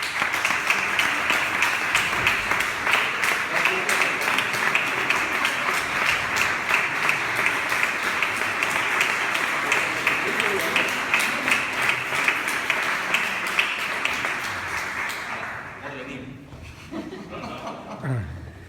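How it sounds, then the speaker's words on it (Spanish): Audience applause for opera figure Carlos Álvarez at a talk on opera as an art form, a dense steady clapping that carries on for about fifteen seconds before thinning out and stopping. "vamos a empezar con un aplauso dirigido a Carlos Álvarez"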